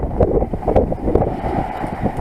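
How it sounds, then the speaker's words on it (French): Steady wind buffeting on a moving sailboat, a low rumbling roar with gusty surges and occasional creaks, fairly loud and continuous, no talking. "le vent se lève, alors ça bouge un petit peu"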